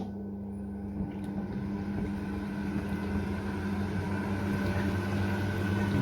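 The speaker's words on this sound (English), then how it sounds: "But you can use the vac." A Mission Control steam-fogging aircon cleaning machine runs its vacuum, giving a steady, even motor drone that holds at a constant pitch and level throughout.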